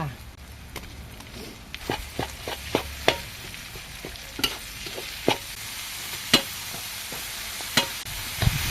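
Minced pork stir-fried with sliced shallots in a pan for a sago dumpling filling: a continuous sizzle broken by regular, sharp spatula scrapes and taps, close and fairly loud.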